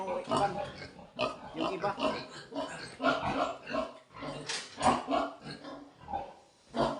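Pigs grunting and snorting on a small backyard pig farm, a near, busy chorus of rough oinks running throughout, while someone talks over them.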